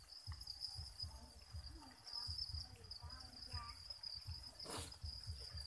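Pet crickets chirp steadily in a continuous high trill, close and fairly faint, with soft rhythmic rustling and low bumps beneath.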